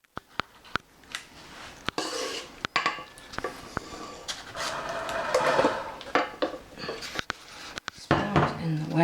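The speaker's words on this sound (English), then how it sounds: "Spoon's in the way. Just set it down there and clean it later." Utensils and bowls clatter on a kitchen counter while chocolate cupcakes with sour cream are made, with sharp clinks and knocks including a spoon set down, over scraping and a voice talking.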